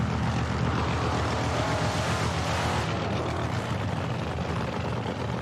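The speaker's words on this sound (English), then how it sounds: "both of these cars powered by basically the same engine, the 426 Chrysler Hemi, supercharged fuel injected on alcohol" A loud, continuous roaring engine drone from a supercharged, fuel-injected 426 Chrysler Hemi drag car running on alcohol, constant and powerful throughout at close range.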